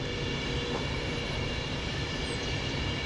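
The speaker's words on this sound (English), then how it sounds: "God, they are long trains, aren't they?" Long passenger trains, including a Pendolino electric unit, pass on the railway near Northampton with a continuous loud rumble and roar of wheels on track, steady throughout with no talk.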